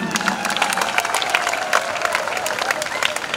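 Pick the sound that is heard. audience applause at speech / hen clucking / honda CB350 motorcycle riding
audience applause at speech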